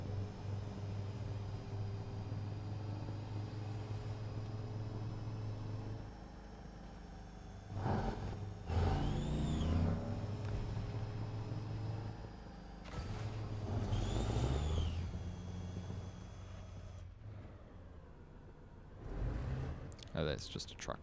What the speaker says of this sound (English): Oh, that's just a truck.